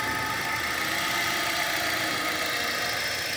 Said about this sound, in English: Just every once in a while, the engine will just give up temporarily.